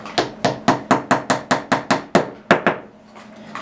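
A hammer strikes wooden dowels down into glued holes in a quick, steady series of about a dozen sharp, close knocks, then stops.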